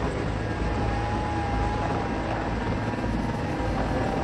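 Sikorsky CH-53E Super Stallion three-engine heavy-lift helicopter, a loud, steady rotor and turbine roar with constant low rumble and a faint whine, no voices.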